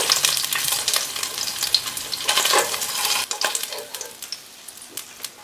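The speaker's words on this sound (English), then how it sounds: "Add paneer pieces. Saute them for some time." Paneer pieces sauté in oil over medium heat with a steady close sizzle, broken by scraping stirs of the spatula and a few sharp clicks against the pan; no one speaks.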